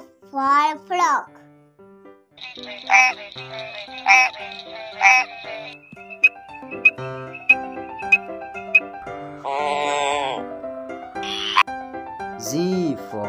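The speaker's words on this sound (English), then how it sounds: "F for frog. F for frog." Someone speaks between a series of playful croaking sounds, a few bursts spaced out, followed by a rapid run of short clicks.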